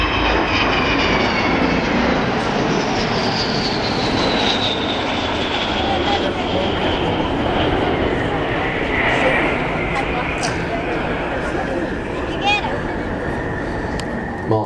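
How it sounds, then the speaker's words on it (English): An Avro Vulcan XH558 jet bomber passes in display at the East Fortune Airshow, a loud continuous roar with a rising and falling whine across the whole span, while an announcer speaks over it. "Ladies and gentlemen, I'm very proud to say the AVRO Vulcan."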